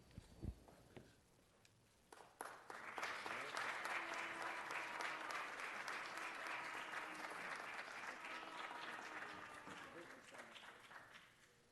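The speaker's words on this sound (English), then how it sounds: "Let's give these folks another round of applause." Applause at a Los Angeles City Council meeting honoring a state champion team on its 50th anniversary: a brief voice, then a sustained, even wash of many hands clapping at low level that slowly fades.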